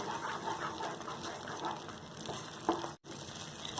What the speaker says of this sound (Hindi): इस स्टेज पे आने के बाद आपको इसे कंटिन्यू चलाते रहना है ताकि ये नीचे से दाग ना लगे।